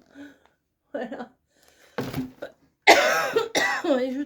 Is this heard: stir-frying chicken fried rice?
no